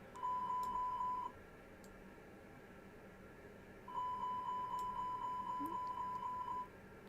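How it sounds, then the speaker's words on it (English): In a Fenix A320 cockpit in Microsoft Flight Simulator 2020, a fire alarm test sounds a steady, repeating electronic chime in two bursts, the first about a second long and the second about three seconds, over a constant low cockpit hum. "that's the noise you get if you have a fire alarm"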